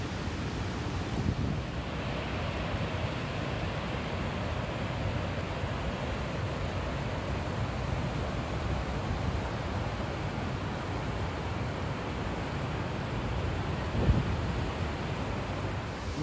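Jaldhar waterfall, swollen after heavy rain, pours in a constant heavy rushing roar heard from a distance, with wind buffeting the microphone and no voices.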